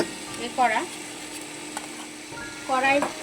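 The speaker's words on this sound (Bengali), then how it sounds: "নারকেলটা ছাই মারছি, এর মধ্যে একটু তাল দিয়ে দেবো।" Grated coconut being stirred in a hot pan with a little palm pulp, giving a soft sizzle and scraping strokes of a spatula. Two louder stirring bursts stand out against the steady frying sound, close up, with no talk.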